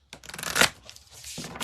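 Large oracle cards shuffled by hand in a riffling, slapping burst that peaks midway, then softer sliding and tapping, close and clear with no talk.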